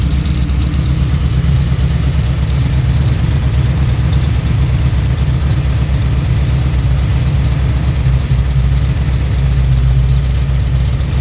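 A Pontiac 428 V8 fitted with three two-barrel carburetors idles loudly and steadily up close, a deep even rumble with a lumpy low pulse and no speech over it.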